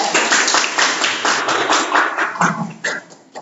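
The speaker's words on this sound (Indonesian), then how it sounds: "Tepuk tangan untuk kelompok 3" Classmates clap for a student group that has just finished presenting a maths answer in a school lesson, a dense patter of hand claps from a nearby crowd that thins and fades toward the end.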